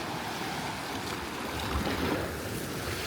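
Deep ocean waves off Itbayat, Batanes wash and surge against a boat and concrete landing, a steady roaring broadband wash with gusts of wind, continuous and fairly loud with no talk.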